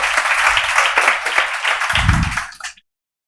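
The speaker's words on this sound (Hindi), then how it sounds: "तो एक बार पहले जोरदार ताली लगाइए इनके लिए।" Loud, dense applause bursts from a room of students celebrating passing the Bihar Police exam, close and sustained for a couple of seconds, with a low thump near the end before it cuts to silence.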